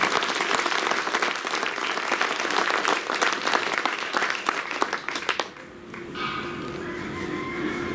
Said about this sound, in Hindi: 3 जोरदार तालियां बजाइए जो बाबा साहब के दिल तक पहुंच जाए